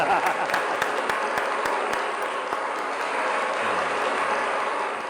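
A studio audience at a late-night talk show claps steadily, producing a dense, even wash of applause with scattered sharper claps and no one speaking over it.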